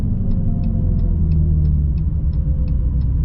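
Steady low road rumble and tyre drone inside a moving 2025 Dodge Charger Daytona, a constant loud hum filling the cabin with faint regular ticking over it and no talking.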